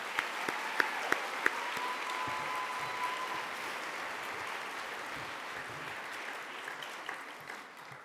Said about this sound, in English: One more time, round of applause for Kelly Gully.